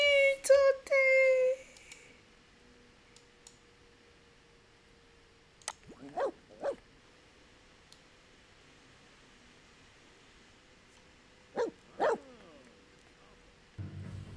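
A dog in The Sims 4 gives a few short synthetic barks while out on a walk, spaced far apart at a moderate level, with stretches of quiet game ambience between them.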